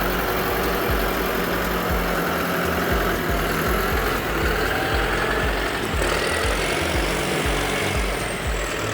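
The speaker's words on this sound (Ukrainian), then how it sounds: "Дуже м'яко, гарно працює двигун" A John Deere tractor's diesel engine runs at a steady idle with a low, even rumble, close and loud, with no talking.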